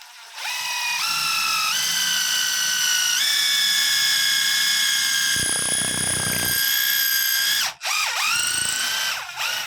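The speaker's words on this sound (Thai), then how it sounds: "เดี๋ยวจะมาเจาะไม้ให้เพื่อนดูกันนะครับ" A Stanley FatMax SBI820 cordless impact driver whines loudly and steadily, its pitch stepping up as it speeds, with a burst of grinding as the bit bites into wood, then stops.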